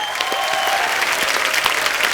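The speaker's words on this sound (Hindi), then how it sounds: "शिल्पा और राजपाजी के लिए जोरदार तालियां" A studio audience at The Kapil Sharma Show claps loudly and steadily, a dense, even wash of applause filling the whole moment.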